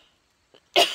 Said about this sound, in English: this cough's coming back